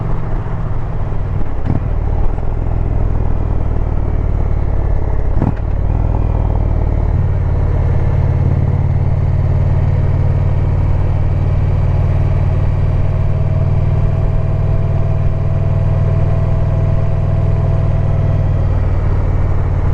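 Motorcycle riding on a highway, a steady loud engine drone mixed with rushing wind, constant and close, with a couple of brief knocks early on.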